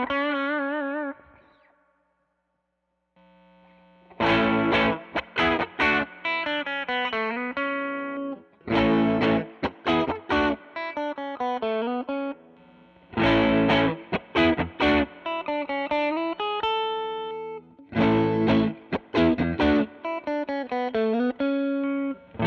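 Donner electric guitar driven through an expensive fuzz pedal, playing loud, saturated bursts of chords and riffs separated by short pauses, with a softer clean-ish intro and no talking.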